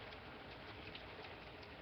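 Heavy rain pours outside during a big storm, a steady dense hiss of falling water with no break, fairly quiet and even throughout, with no voices.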